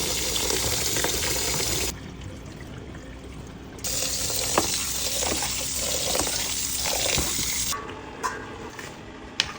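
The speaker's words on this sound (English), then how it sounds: "I first of all wash my rice with hot water before pouring it" Hot water poured over rice to wash it while cooking Nigerian jollof rice, a steady rushing splash that stops and restarts, with quieter stirring and clinking between the pours.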